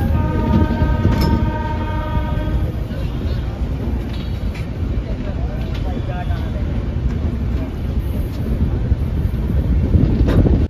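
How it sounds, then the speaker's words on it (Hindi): Shramjeevi Express pulling out of Sultanpur Junction after a two-minute halt, heard from on board: a continuous loud rumble of wheels and carriage with wind buffeting the microphone, brief clanks near the start. "यहाँ तो भाई 2 मिनट के हॉल्ट लेने के बाद अपनी ट्रेन डिपार्ट ले चुके हैं सुल्तानपुर जंक्शन से, तो आप डिपार्चर देखिए"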